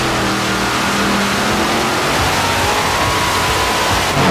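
Tractor pulling engines roaring in the 7,000 pound class with four motors at a dirt track, a loud, dense, sustained blast of engine noise and broadband roar with no breaks.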